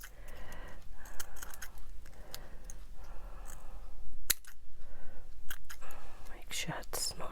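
Scissors snipping near a collage piece to remove it without cutting the stitching, with several sharp close clicks of the blades between quiet whispered talk.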